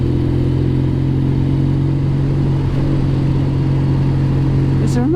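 A 1962 Norton Dominator 88 motorcycle engine drones steadily while riding, loud and close with a constant throbbing tone and wind noise, a voice briefly heard at the end.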